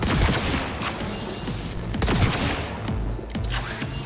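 Smart weapon gunfire in Cyberpunk 2077 bursts in rapid, crackling volleys over a dense, noisy game soundscape. The shots are loud and continuous, with no voices.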